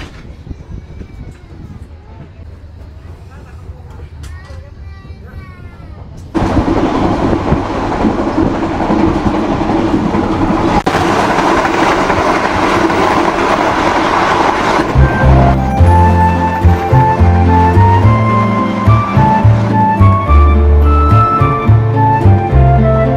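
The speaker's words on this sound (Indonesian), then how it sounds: "ini sekarang kita kereta api Gumarang persiapan masuk stasiun Semarang Tawang." Gumarang passenger train running toward Semarang Tawang station, heard from on board: a low rumble that grows louder and fuller partway through, then rhythmic wheel clatter and rising motor tones, loud and continuous.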